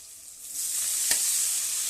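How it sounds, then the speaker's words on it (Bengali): Lentil dumplings and brinjal sizzle loudly in hot oil in a pan, a dense steady frying hiss close up with a brief stir, no voices. "বড়িগুলো ভাজা হয়ে এসছে, বেগুনগুলো দিয়ে দিলাম।"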